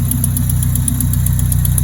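Car engine running steadily and loudly after a misfire repair, with the manifold paint burning off, a constant close rumble with a fast even pulsing throb.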